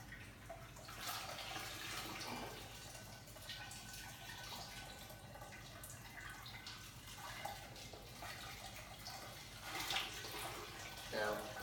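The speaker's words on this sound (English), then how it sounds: "you can see it's draining down into that bowl" Steady running water trickling and draining into a bowl, a continuous soft wash of liquid with occasional drips, fairly close.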